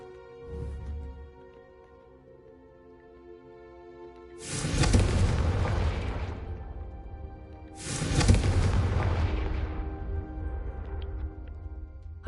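A Confringo spell explosion in the video game Hogwarts Legacy, two loud fiery blasts a few seconds apart, each a broad booming burst that trails off slowly, set over a quiet background hum.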